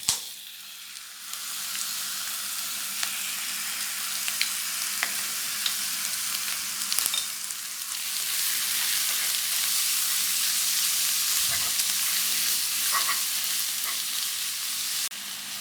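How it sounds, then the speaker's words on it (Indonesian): Meat stir-frying in a pan for a black sesame dish, either pork tenderloin or chicken, with a steady close sizzle throughout and occasional sharp clicks of utensil stirring. There is no speech. "Barulah kita tumis dagingnya"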